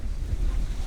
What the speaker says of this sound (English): listening to the birds and the waves.